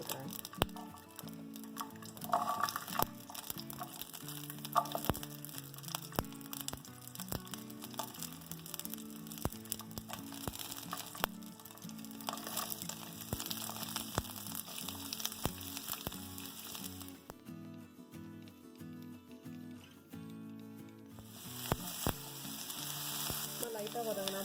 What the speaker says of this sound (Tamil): இப்போ நம்ம கொஞ்சமாக எண்ணெய் ஊற்றி நம்ம தாளிச்சிக்கலாம். லைட்டாக வதக்க தான் போகிறோம். முதல்ல நான் இஞ்சி பூண்டெல்லாம் போட்டுக்கிறேன்.